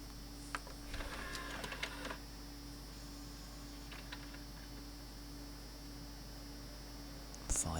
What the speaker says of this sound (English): Quite noisy machine as well.